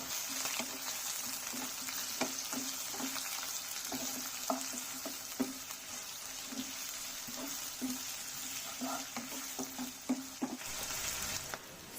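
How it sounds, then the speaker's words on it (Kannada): Onions frying in hot oil for egg masala, a soft continuous sizzle with light clicks and taps of a spoon stirring the pan at irregular intervals, fairly quiet and steady throughout. "ಈರುಳ್ಳಿ ಚೆನ್ನಾಗಿ ಫ್ರೈ ಆಗಬೇಕು."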